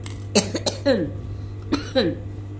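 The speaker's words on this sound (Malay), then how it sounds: "Batuk pula" Two short bursts of coughing, each a quick pair of harsh coughs, close up over a steady low hum.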